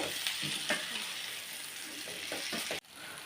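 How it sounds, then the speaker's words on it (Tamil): Potato masala for samosa filling being stirred in a pan, with a steady close sizzle and a few scraping strokes of the spoon, ending in a sudden cut to quieter background. "எல்லா பக்கமும் மசாலா படுற மாதிரி கிண்டி விட்டுக்கலாம்"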